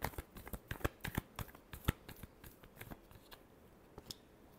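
Tarot cards being shuffled by hand, a string of soft, quiet riffling snaps and taps in an uneven rhythm, close and alone.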